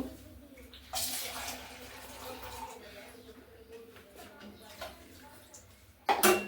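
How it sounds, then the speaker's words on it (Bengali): Water is poured into a pot of chicken and potato curry during home cooking: a brief splashing gush near the start and a clattering splash at the end, over a quiet kitchen hum. "এখন এই যে পানিটা দিয়ে দিই এই মুরগিটা একটু ঝোল ঝোল মজা লাগে তাই আর একটু পানি দিব"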